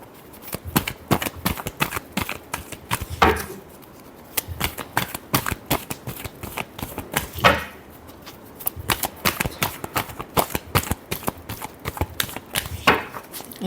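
Tarot cards are shuffled rapidly up close in repeated bursts of crisp riffling and slapping, with brief softer swishes between bursts and no talking.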